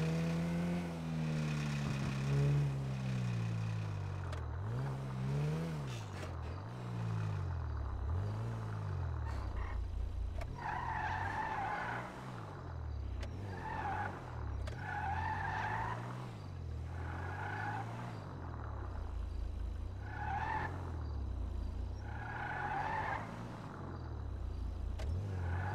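A car in GTA drives with an engine that rises and falls through repeated revs, punctuated by several screeching tire skids in the later half, loud and close with no talking.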